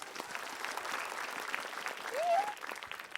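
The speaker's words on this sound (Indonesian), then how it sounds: "Tepuk tangan dulu untuk suami." An Indonesian television studio audience claps steadily for a moment, with light crowd noise and a brief whistle-like squeal near the end.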